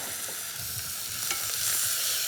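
Coriander seeds and peppercorns sizzle steadily in a hot pan with a broad, continuous frying hiss and faint stirring scrapes, with no voices.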